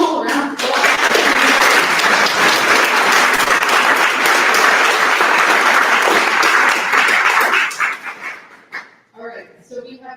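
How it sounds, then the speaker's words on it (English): Loud, sustained crowd applause at a candidates forum, dense clapping for about eight seconds, then fading into a few scattered claps and quieter murmurs. "Please give them all a round of applause."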